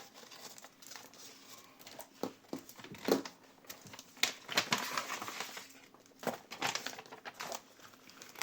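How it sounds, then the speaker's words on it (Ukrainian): Quiet crinkling and tearing of a paper packet, with irregular rustles and small rips close by, soft and uneven. "Так, відкриваємо цей пакетик."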